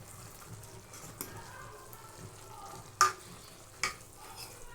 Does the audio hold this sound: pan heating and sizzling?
yes